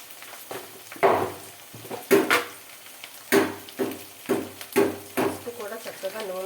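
Turmeric and salt frying in hot oil in a pan, with soft sizzling and repeated clinks of a spoon stirring against the pan at an irregular rhythm, heard close up under a quiet background.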